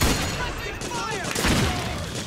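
Dense, continuous gunfire rattles in the video game Metal Gear Solid 4, a busy wash of shots and explosions with voices calling out over the din.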